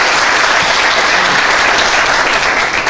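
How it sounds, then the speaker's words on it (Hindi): A seated audience breaks into dense, steady applause that fills the whole stretch loudly and evenly, many hands clapping at once with no voices standing out. "सर के लिए एक बार ताली बजाइए आप लोग।"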